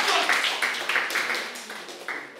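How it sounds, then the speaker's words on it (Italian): An audience at a social club storytelling gathering claps for Paolo, a brisk burst of applause that gradually thins and fades over a couple of seconds. "facciamo un applauso anche a Paolo e a tutti quelli che hanno sentito oggi"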